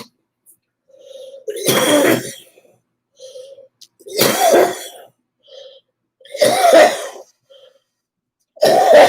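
Someone coughs in four harsh, throaty bursts spaced a couple of seconds apart, close by, with quiet breaths between.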